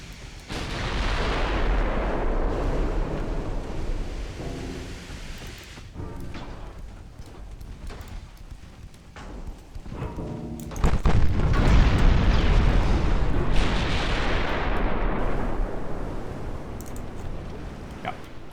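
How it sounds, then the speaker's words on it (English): Battlecruiser gun salvos in the naval game Ultimate Admiral boom out as a long series of heavy rumbling blasts and explosions, loud and dense, rolling through most of the stretch. "6 gun salvos, a little anemic."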